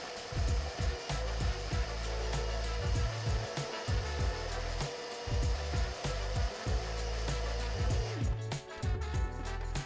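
A vacuum cleaner sucks up dust from a bathroom floor after a bathtub is removed, a continuous motor drone that surges in repeated pulses as the nozzle moves, with no talking.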